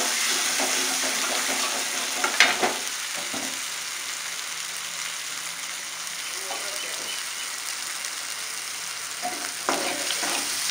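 Onions frying in oil for ennai kathirikai brinjal gravy give a steady, close hissing sizzle, with a few brief stirring scrapes near the start and end and no voice.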